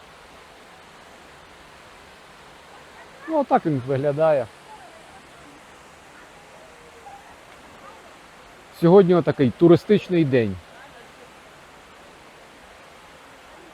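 The lowest, fifth tier of a five-level mountain waterfall, where people are swimming. A steady, broad rush of falling water fills the whole stretch, and a voice talks over it in two short bursts.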